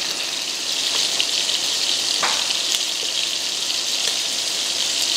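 Beef sears in a Dutch oven with a loud, constant close sizzle and a few faint clicks. There is no talk over it.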